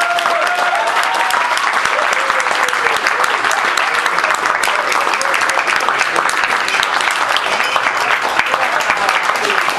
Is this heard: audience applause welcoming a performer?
yes